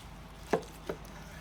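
A knife cuts into a cooked steak on a board with two brief, soft thuds about a third of a second apart, close and quiet against a calm room.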